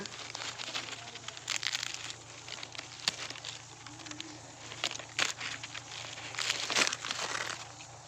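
Maize cob husk peeled open by hand in a crop field, a dry crinkling and tearing rustle with a few sharper snaps, close up and moderately loud over faint outdoor background.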